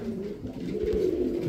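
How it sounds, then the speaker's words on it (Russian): Pigeons coo softly in low repeated throaty calls, fairly close, over a dull background hum with no voices. "Вот красный сидит. Красный голубь, он страшный, правда"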